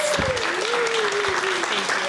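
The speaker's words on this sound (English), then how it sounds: "So a round of applause for our guide dog mobility instructor staff." Audience applause at a guide dog graduation ceremony, a dense steady patter of clapping across the whole short stretch, with a steady tone and voices running underneath.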